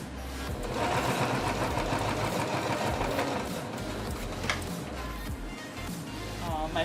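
An old-fashioned Singer sewing machine running steadily, a close, continuous mechanical whirr and rapid rattle of the needle, with faint talk in the background.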